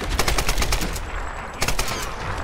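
Rapid automatic gunfire rattles in the Tomb Raider video game, a loud fast string of shots through the first second, a pause, then another short burst.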